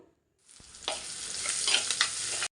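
Small onions sautéing with salt in a pan for a squid gravy, starting with a brief knock and then a rising crackling sizzle with stirring scrapes that cuts off abruptly.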